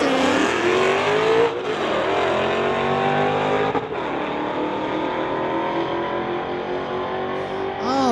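A 2006 Charger and a 2022 Ford Mustang drag race at a street-legal event, with loud, sustained engine roar, rising revs and gear changes, heard continuously and close.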